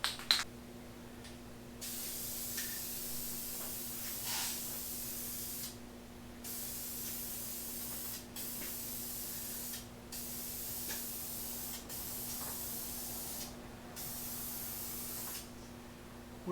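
A spray can of primer hisses in a long run of bursts with brief pauses, coating a diesel oil pan; steady, moderately close, no talking.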